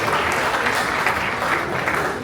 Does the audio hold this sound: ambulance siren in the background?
no